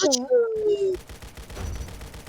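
Rapid M4 gunfire from the Roblox shooter Aimblox rattles out in a fast, steady burst after a brief in-game tone, loud and close.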